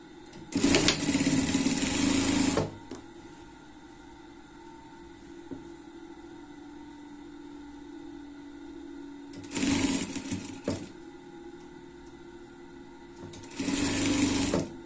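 Sewing machine runs in three bursts stitching the underarm seam of a school tracksuit sweatshirt, a steady loud whirring motor hum for about two seconds each time, with a quieter low background between runs.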